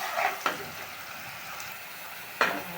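Spice paste with cardamom and cinnamon sautéing in a pan for a koi fish and orange curry, a steady close sizzle broken by a few sharp utensil clicks against the pan.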